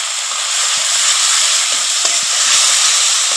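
Ginger and onion paste with turmeric, chili and cumin powders fry in a pan for a cauliflower and potato dish, producing a loud, continuous hiss and sizzle with faint scraping from stirring.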